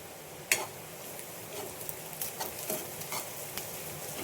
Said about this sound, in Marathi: अशी जरा परतली मी तेलामध्ये